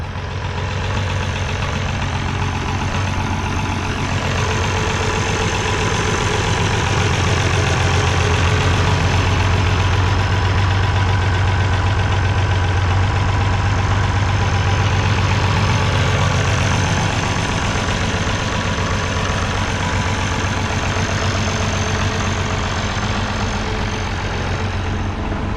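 An International Harvester 986 tractor engine running steadily nearby, a loud, continuous low diesel drone with a knocking throb that holds unchanged throughout.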